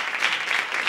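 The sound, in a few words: church congregation applauding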